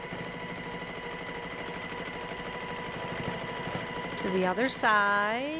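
A sewing machine runs steadily through a quilt block's pinwheel section, a fast even whirring stitch close by, while someone talks over it; at the end the motor winds down as higher tones rise.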